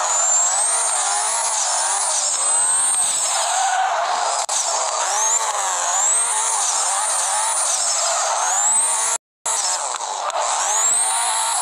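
A car drifts in the Harishiya Drifter video game, its engine whining high and continuous with wavering revs and tire squeal, loud and near, broken by one brief dropout.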